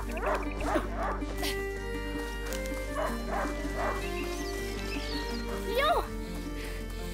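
A hunting dog in the video game A Plague Tale: Innocence barks repeatedly in short bursts over a steady background hum, with a few yips and a whimper near the end.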